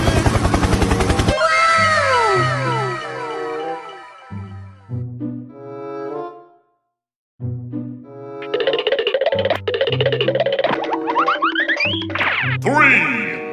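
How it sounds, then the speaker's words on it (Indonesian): A cartoon helicopter sound effect in a children's animated show with Tayo and a telolet truck: bouncy, springy synthesized tones with sliding pitches, running loud and nearly continuous with a short silent gap partway through. "Helikopter, helikopter."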